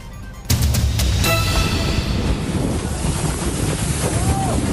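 A China Coast Guard ship fires its water cannon at a Philippine fisheries vessel at Bajo de Masinloc: a loud sudden rushing blast of spray and wind at sea, continuous and roaring after the opening moment.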